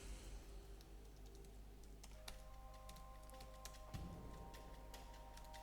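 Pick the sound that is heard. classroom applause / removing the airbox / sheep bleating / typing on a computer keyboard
typing on a computer keyboard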